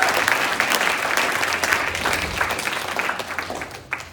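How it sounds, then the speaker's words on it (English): Audience applause at a seminar, a dense, steady roar of many hands clapping together, loud and close, sustained for several seconds without talk. "I just want to give a round of applause to John Shin for everything that"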